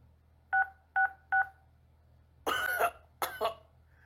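A telephone number is dialed as three short, evenly spaced keypad tones, followed by two harsh coughs or throat clearings close to the microphone.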